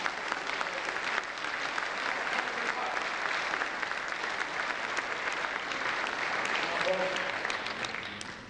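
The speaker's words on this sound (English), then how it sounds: "we'll have a big round of applause for the gentleman" An audience applauds a volunteer at a talk at SMU, sustained dense clapping from a large hall crowd, even and moderately distant, with a few faint voices mixed in.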